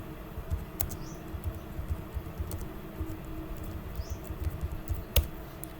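Quiet, close keystrokes on a computer keyboard as a Google search is typed, light irregular taps and clicks with a sharper click near the end, over faint room noise.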